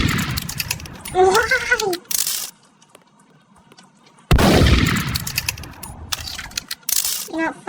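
Video game gunfire arrives in sharp bursts of loud cracking shots, set between stretches of excited talk and a lull of near quiet.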